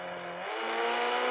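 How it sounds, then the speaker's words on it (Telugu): A car engine hums steadily and then rises in pitch as it accelerates, growing a little louder over a brief moment, close by, with no talking. "ఈ కారు సౌండ్ వల్ల నా వాయిస్ వినిపించకపోవచ్చు"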